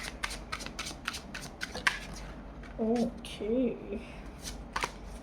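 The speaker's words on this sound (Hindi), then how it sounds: "पहले मैं शफल कर लूँ अच्छे से फाइल को।" Tarot cards being shuffled by hand close up, a series of quick crisp riffling flicks and slaps, with a few soft vocal murmurs from a person in between.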